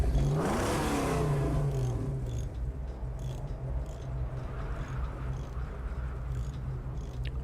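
Car engine in a driving video game set in the Australian wasteland, with a front-end-damaged vehicle: a loud rev climbs at the start, then settles into a steady engine drone that holds for the rest.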